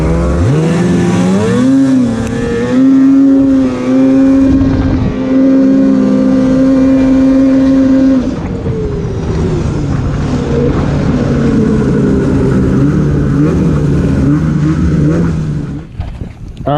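A Polaris 850 Switchback Assault snowmobile roars along close by, its engine holding a loud, steady high-revving drone that shifts pitch partway through and eases off at the very end.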